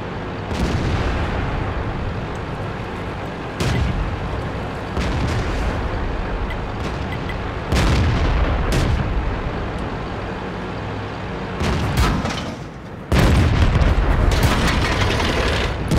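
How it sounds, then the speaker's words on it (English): Tank cannon shots in World of Tanks, several heavy booms spaced through a steady engine and battle rumble, loud and close, with no talk over them. "the gun sounds really cool"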